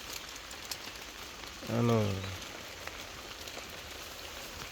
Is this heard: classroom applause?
no